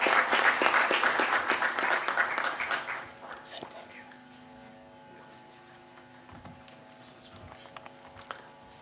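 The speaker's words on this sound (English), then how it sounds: "Another round of applause." An audience at a research workshop applauds, strong clapping for about three seconds that fades into scattered claps, murmurs and room hum.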